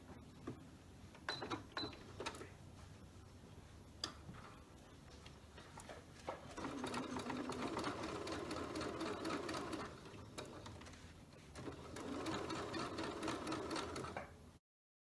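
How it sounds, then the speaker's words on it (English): A sewing machine runs a straight stitch with yellow embroidery thread along the edge of an appliqued quilt block, with a few short starts at first, then two long, steady runs of rapid, close stitching. "So I've attached yellow thread, embroidery thread, in my machine, and I'm going to do a straight stitch on the edge of this yellow part."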